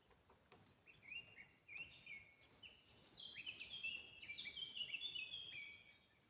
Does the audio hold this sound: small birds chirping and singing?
yes